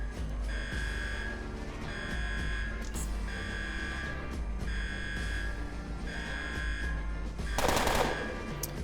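Automatic gunfire rattles in the turn-based game Underrail, repeated bursts of rapid shots over a steady electronic hum, with a sharp, noisy blast near the end.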